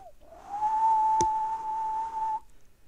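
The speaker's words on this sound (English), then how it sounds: "He whistled soft and low" A single soft, low whistle holds one steady pitch for about two seconds, faint and alone in a quiet space.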